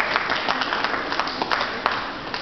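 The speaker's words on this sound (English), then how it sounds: "So, yes, a big round of applause." A crowd gathered for a technology shop launch claps together in a busy, continuous round of applause, with faint voices mixed underneath.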